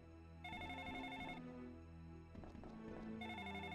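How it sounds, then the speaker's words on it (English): A telephone rings in The Ring: Terror's Realm on the Dreamcast, two electronic ring bursts separated by a pause, heard over a low, droning game soundtrack. "Oh, the phone's going off."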